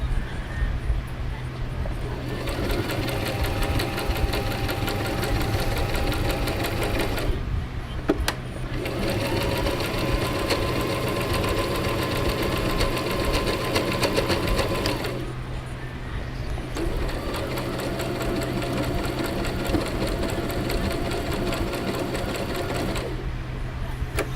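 A sewing machine runs in long, fast, steady stitching bursts, close and loud, pausing briefly between runs.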